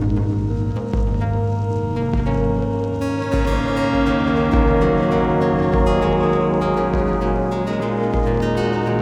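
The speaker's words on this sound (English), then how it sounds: "Let's go ahead and listen to what all is available on the pluck string." A modular synth patch plays a plucked-string voice, a dense, steady stream of bright plucked notes forming a generated melody with layered harmonics, fairly loud and continuous with no talking.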